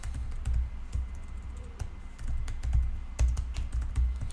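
HTML code being typed on a computer keyboard: quick, uneven clusters of clicky keystrokes, close and moderately soft, with no voices.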